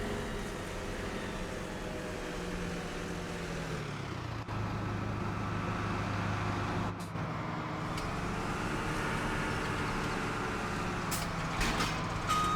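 Combine harvester in Farming Simulator 17 running steadily with a constant engine drone and a brief shift in tone partway through, loud and continuous with no talk.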